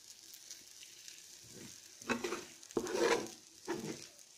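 Spinach and split mung lentil stir-fry being stirred in a pan over medium heat, a soft sizzle with several scraping stirs that swell and fade across a few seconds, quiet and close.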